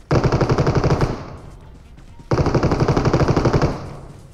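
Loud, rapid automatic gunfire from PUBG Mobile on the Sanhok map, two sustained bursts of fast regular shots separated by a brief pause with fading tail and faint shots.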